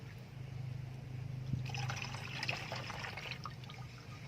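Rice-washing water sprayed from a bottle onto potted orchids, giving soft hissy spritzes and faint trickles over a low background hum.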